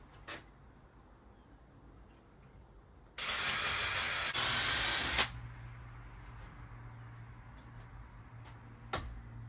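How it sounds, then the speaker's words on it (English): A power drill whines for about two seconds in one steady burst drilling holes in wood for pantry shelves, close and fairly loud, amid quiet workshop background with faint knocks. "Drill some holes."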